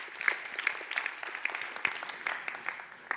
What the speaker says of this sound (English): huge applause as well